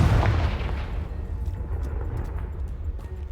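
A Confringo blasting spell explodes in Hogwarts Legacy, setting off a loud, deep boom that rumbles and decays over a few seconds, close and with no talk over it.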